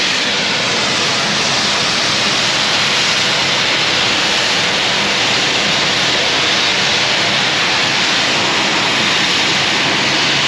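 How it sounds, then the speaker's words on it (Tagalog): High-pressure water blasting strips rust from a ship's hull in drydock, a loud, steady roaring hiss that runs unbroken for the whole stretch, with no talking. "Gumamit sila ng high pressure water blast. Kaya tanggal yung mga kalawang pag ito yung ginagamit."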